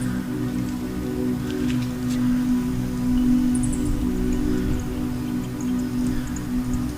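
Rain patters and drips steadily around a mountain trail near the summit, a soft constant wash with a low hum underneath and scattered brighter drops, and no voices.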